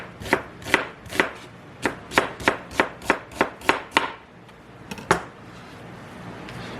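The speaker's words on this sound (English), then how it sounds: "We're gonna slice these vegetables, and I just slice it." A knife slices onion, carrot and celery on a cutting board, about a dozen sharp, evenly spaced chops in quick rhythm, then a pause and one last chop, close and crisp, with no voices.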